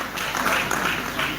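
A church congregation applauds for Jesus at a health talk, a soft, steady wash of many clapping hands heard at a distance.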